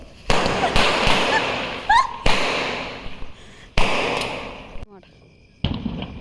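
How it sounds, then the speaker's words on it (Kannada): Diwali firecrackers bursting outdoors at a new home, a string of loud sharp bangs and pops at irregular intervals with crackling tails, with a voice speaking in between. "ಪಟಾಕಿ ಎಲ್ಲ ಇದರಲ್ಲಿ ಹಾಕಿದ್ದೀವಿ ಬೆಂಕಿ ಅಂಟ್ಕೊಂಡು ನೋಡಿ ಆಗ್ತಾ ಇದೆ ಅದು"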